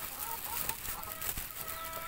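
Rhode Island Red chickens clucking softly nearby, short repeated clucks over a steady background of outdoor noise.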